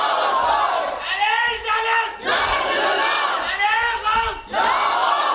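A crowd at a devotional gathering honouring saints chants religious slogans together in four loud rhythmic bursts, each call separated by a short dip, forceful and close.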